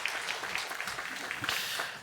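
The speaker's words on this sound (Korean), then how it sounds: "여러분 박수 한번 하겠습니다" A congregation at a university chapel service applauds a visiting pastor: a soft, continuous spread of many hands clapping, fairly distant and even, with no voices over it.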